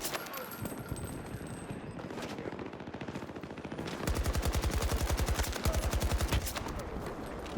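Rapid automatic gunfire from a sentry gun in Battlefield 2042, heard as dense bursts that grow louder and steadier in the second half, with game sounds around it and no clear talk.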